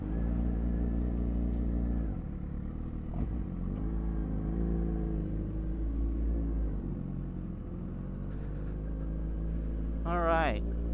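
A Suzuki GSXR 600 motorcycle ridden by a beginner, its engine a steady low rumble with shifting throttle under a rider talking, and a brief rising rev near the end.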